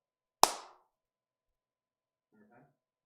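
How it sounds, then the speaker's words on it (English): Two single sharp hand claps for a sync test, about two and a half seconds apart. Each is crisp and close in a quiet room, and a faint murmur of voices comes between them. "Okay, starting from 0, we can clap."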